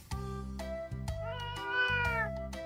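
Domestic cat meowing clearly and close, a few repeated short meows followed by a longer, rising drawn-out cry, alone with no talking.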